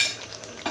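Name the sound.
stirring chutney in a pan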